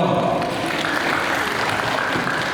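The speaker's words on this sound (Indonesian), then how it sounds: "Beri tepuk tangan dulu buat filmmakernya dong." An audience at an Indonesian community film screening claps for the filmmaker, producing a dense, continuous burst of applause throughout.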